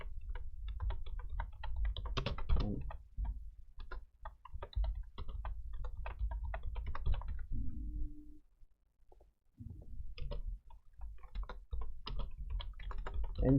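Rapid typing on a computer keyboard, dense close key clatter in bursts with brief pauses, one short gap of near silence midway, then the keystrokes resume.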